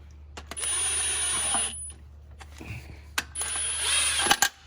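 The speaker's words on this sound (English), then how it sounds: "I always like to start the 2 bolts on the dowels first and impact those on." An impact wrench runs two bursts of about a second each, driving transmission bolts during a 47RH swap on a first-generation Cummins truck, close and loud, with clanks and taps of tools between the bursts.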